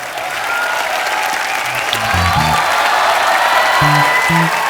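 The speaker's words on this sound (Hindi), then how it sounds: "जोरदार तालियों से स्वागत कीजिए द ग्रेटेस्ट एंटरप्रेन्योर चंदू चाय वाला।" A television comedy show studio audience breaks into loud, sustained applause to welcome a guest, a dense wash of clapping filling the room, with brief voices and a few music notes cutting through.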